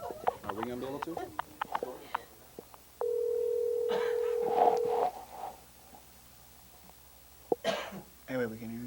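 A telephone being dialed during a 1987 local TV broadcast: a steady dial tone, a run of touch-tone beeps, then ringing. Voices speak and someone coughs before and after.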